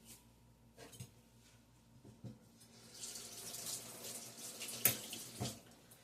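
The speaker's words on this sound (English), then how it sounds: "Rinse off the spoon." Tap water runs into a sink while a spoon is rinsed under it, with a steady close splash and a few clinks and knocks. No one speaks.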